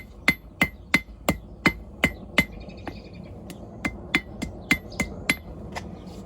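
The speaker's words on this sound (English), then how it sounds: "I'm gonna use the cross peen portion of my hammer to try and flatten that down" A blacksmith's cross peen hammer strikes hot metal on a forge about a dozen times in a steady rhythm, flattening it, each blow a sharp ringing clang, close and loud with short pauses between.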